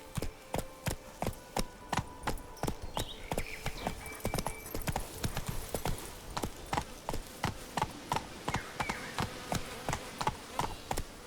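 Roach, a horse in The Witcher 3, gallops in a steady, rapid clip-clop of hooves that runs unbroken and close throughout, with faint game ambience beneath.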